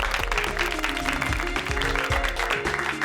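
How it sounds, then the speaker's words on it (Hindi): Applause from a group of children at a competition, a steady wash of clapping with tonal background music and a voice running underneath. "तालियां!"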